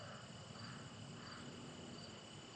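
Crickets chirping on a quiet morning, a faint, steady high-pitched trill with soft pulsing rhythm and no other sounds.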